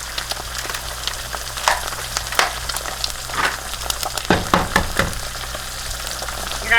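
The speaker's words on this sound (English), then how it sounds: "Butter's got to go in the pan." Butter sizzles and crackles in a hot frying pan, a dense steady hiss with brief sharper pops and clatter near the end.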